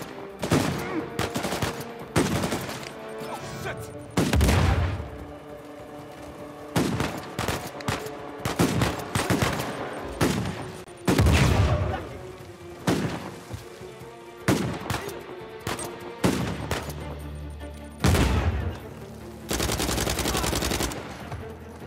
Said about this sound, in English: Let's not stand there and just get shot.